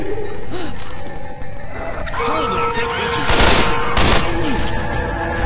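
Rapid gunfire rings out in the zombie shooter game Left 4 Dead as players shoot down the witch, a dense burst of shots layered over game sounds and ambient noise, loud and continuous near the middle.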